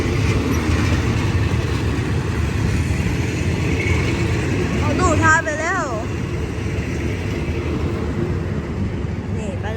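A train rumbles steadily into Rangsit station in Thailand, low and continuous, with a rising-falling whistle-like tone midway and someone talking over the rolling noise.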